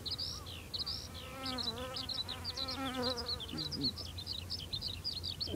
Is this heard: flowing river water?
no